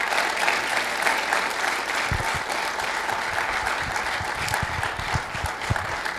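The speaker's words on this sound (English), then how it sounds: "Would you give him a round of applause as he's coming today?" An audience applauding at a lecture event on Darwin versus design, sustained dense clapping from a large crowd filling the whole stretch with steady loudness.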